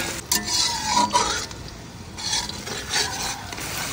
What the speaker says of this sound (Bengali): এবার পেঁয়াজ কুচি দিব। পেঁয়াজ কুচি, মরিচ কুচি, ভালো মতো নাড়াচাড়া করে নেব যতক্ষণ না বাদামি কালার হয়।